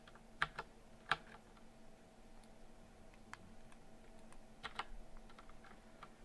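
Keys on a computer keyboard are tapped sparsely while playing a word game, giving a few sharp, isolated clicks spread out over quiet room tone, fairly faint and close.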